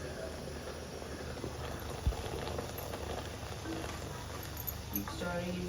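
Chicken curry bubbles in a pan, a soft, continuous simmering patter with a brief thump partway through.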